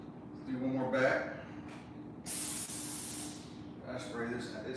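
A car-detailing steam cleaner hisses in a sustained spray of about a second over vehicle seats, with someone talking before and after it.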